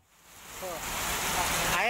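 Heavy rain falls steadily during a downpour in Limus Pratama Regency, Bogor, West Java, a dense hiss that grows louder through the clip, with faint chirping tones and a murmur of voices beneath it.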